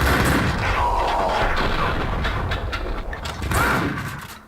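Gunshots in Max Payne 2: The Fall of Max Payne on Xbox, a loud dense spread of reports and booms with mechanical clatter filling the whole stretch, no talk over it.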